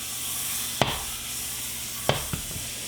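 Butter sizzling in a hot pan before pan-seared steak, a steady frying hiss with sharp crackles and pops at intervals, close and fairly quiet.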